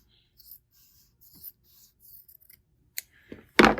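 Scissors snip off the excess length of an overgrip wrapped on a tennis racket: a few soft, scattered cuts and scrapes up close, then a louder, crisp snip at the end.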